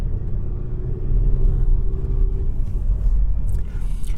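Road traffic passes steadily outside a school at letting-out time near Portland Harbour, a continuous low rumble of cars with a faint engine tone rising and fading midway, fairly close and unbroken throughout.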